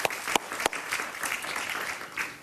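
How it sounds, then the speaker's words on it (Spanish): Studio audience clapping on a Spanish-language political talk show, starting with a few sharp separate claps before settling into soft, fairly quiet applause. "Un aplauso para él, por favor."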